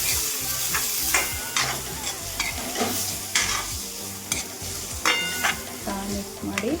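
Broad beans curry being stirred in a hot pan, a spoon scraping and clacking in repeated strokes over a steady sizzle of frying, close and fairly loud with no talking.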